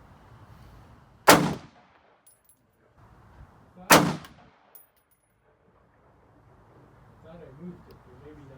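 Two sharp, loud AR-15 rifle shots crack out a few seconds apart at an outdoor range, each with a short echoing tail, while an instructor speaks quietly between them.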